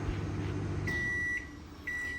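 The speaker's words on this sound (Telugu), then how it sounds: "ఇంకా అయిపోయింది డోర్ ఓపెన్ చేస్తున్న సౌండ్ కూడా వచ్చింది" A microwave oven hums steadily, then falls quiet as a long electronic beep sounds, followed by another beep moments later as its door is opened.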